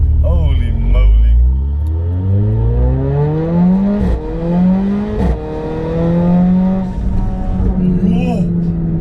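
A Mercedes A45 AMG launches hard on low boost, its engine revving loud and close, pitch sweeping upward through repeated rises as the car accelerates through the gears.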